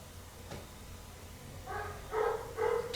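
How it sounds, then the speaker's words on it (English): Dogs bark outside at night, three faint, distant barks in quick succession near the end of an otherwise quiet stretch. "Dogs."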